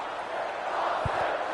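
Home crowd at a rugby league match cheering a try, a dense, steady roar of many voices filling the air, loud and sustained throughout, with a couple of low thumps near the end.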